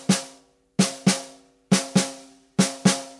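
Snare drum double strokes played with two separate wrist motions, five sharp paired hits at an uneven, slightly wider spacing, each pair ringing out briefly, close, bright and alone without voices.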